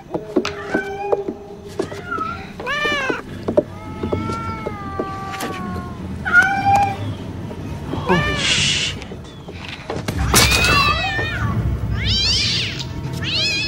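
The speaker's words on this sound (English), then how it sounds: "These cats were trained to climb up on the screen, which was later deleted from the scene." Several trained cats meow repeatedly during a film scene, with rising and falling calls scattered across the clip over a low background hum, and one longer drawn-out wail near the end.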